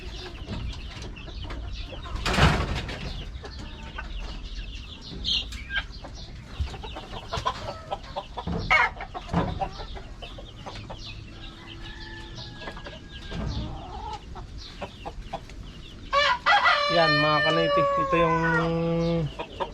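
Rhode Island Red chickens cluck and scratch around nearby, with scattered bird noises, then a Rhode Island Red rooster crows loudly and close near the end.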